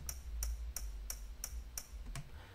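A Canonet QL17 film camera's metal lens hood flicked repeatedly with reverb added, giving seven evenly spaced, bright tick-like hits with a short ringing tail, close-up and alone, almost like a hi-hat.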